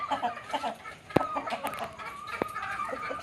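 Gull pullet chickens cluck softly and intermittently at a farm, with a couple of sharp knocks and faint background noise around the clucks.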